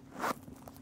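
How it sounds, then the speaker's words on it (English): A single short, close zipper pull on a Dooney and Bourke Barlow handbag, a quick rasping slide lasting a fraction of a second. "Zipper."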